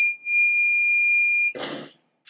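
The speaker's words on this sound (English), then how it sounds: "the buzzer is on" A small electronic buzzer driven by a Raspberry Pi through a PCA9536 digital I/O chip sounds a steady, piercing high-pitched tone for about a second and a half, then cuts off, followed by a brief burst of broadband noise.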